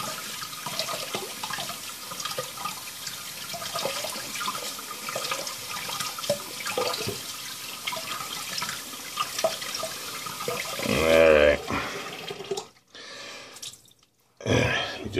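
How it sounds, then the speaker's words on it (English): Running water from a tap rinses a shaving brush in a close, steady splashing stream that swells near the end and then cuts off abruptly in short bursts. "Let me rinse this brush off good"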